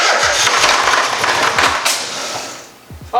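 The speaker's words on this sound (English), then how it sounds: "let's try to get this car idling" A first-generation NA Mazda Miata, rebuilt after being totaled, is cranked to start and brought toward idle, giving a loud, rough, continuous mechanical roar with scattered low thumps that drops briefly near the end and then surges again.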